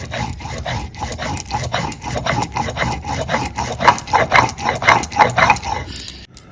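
Spice mix being ground into a paste for khichuri and ash gourd fritters, a steady rhythmic rasping and rubbing of stone on stone, close and fairly loud, repeating about twice a second and ending abruptly.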